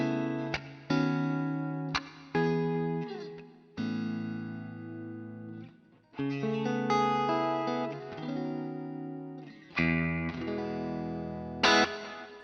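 Electric guitar run through a Quad Cortex modeling Dumble-style amp on its jazz setting, a clean tone playing separate plucked chords and short runs, each strike ringing out and decaying with light reverb, heard alone.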